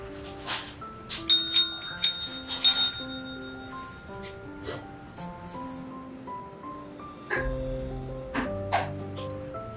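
Ragdoll cats ring a bell: several chimes ring out in an uneven sequence, bright metallic tones with short pauses between strikes, fairly quiet and close.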